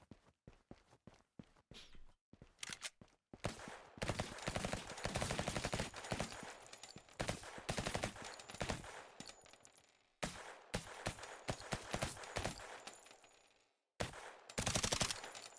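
Automatic gunfire from a video game in development: loud, rapid bursts of shots in long runs separated by brief silent gaps, with a few isolated shots at the start.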